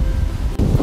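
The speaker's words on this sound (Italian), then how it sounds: "C'è un vento della Madonna, spero vi sentiate." Strong wind buffets the microphone in a steady low roar on a mountain pass along the Portuguese Way walking route to Santiago.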